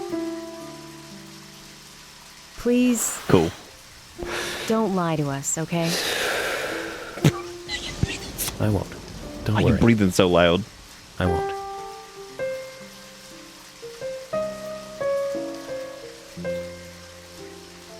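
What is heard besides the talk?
rain in the video game Deadly Premonition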